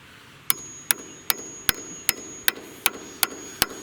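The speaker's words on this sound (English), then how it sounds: "Anytime you go to beat on a bolt and you have a nut, throw it on there, leave the nut protrude just a touch" Ten evenly spaced, ringing metallic strikes as a hammer beats on a bolt capped with a nut, each blow sharp and close, steady rhythm about every 0.4 seconds with a faint lingering ring.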